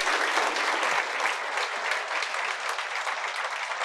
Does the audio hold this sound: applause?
yes